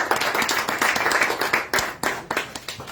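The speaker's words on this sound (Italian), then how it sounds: "Faccio un altro applauso." Audience applause at an Italian meeting with David Lloyd, a steady patter of fairly close hand claps with irregular sharp peaks, continuing for the whole stretch without talk.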